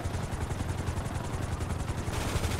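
Gunfire in GTA V rattles in rapid bursts over a constant helicopter rotor drone, loud and near, the pops blurring into a continuous clatter with no voices.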